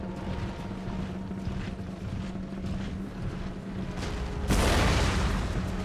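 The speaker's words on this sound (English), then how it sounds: "High arcing shells, that's got to be howitzer fire." Howitzer artillery fire in the game Empire: Total War, a steady rumbling battle din with a sudden loud boom-like burst near the end.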